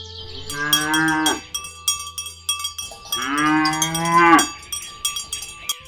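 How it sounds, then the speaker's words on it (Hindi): A cow in an animated story gives two long, loud lows, each rising and falling, separated by a short pause, with a cowbell clinking throughout and no talk. "उस गांव में वृंदा नाम की एक गाय अपने बछड़े डुग्गू के साथ रहती थी।"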